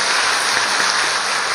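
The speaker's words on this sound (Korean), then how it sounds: "잘했고 박수 한번 더 보내주시기 바랍니다" A church congregation claps for its Hallelujah choir during a Sunday service, a continuous wash of many hands at an even level throughout, with no voices on top.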